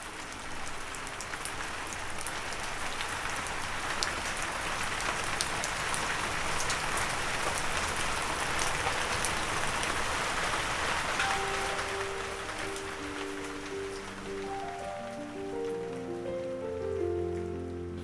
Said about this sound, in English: Tough old night, rain was shocking, so don't fish the best through the rain